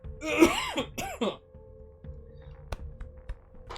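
A person clears their throat harshly and coughs a few times up close, followed by quiet room noise and a couple of small knocks.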